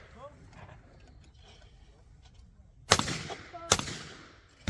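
Two loud, sharp shotgun blasts at a clay target on a shooting ground, about a second apart, each with a short echoing tail, after a stretch of quiet outdoor background.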